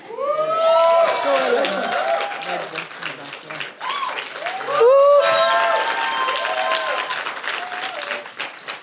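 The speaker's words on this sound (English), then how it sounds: "So she's a special round of applause for Hélène" A festival audience applauds and cheers at a closing keynote. The clapping runs steadily throughout, with whoops and raised voices rising over it in two louder swells.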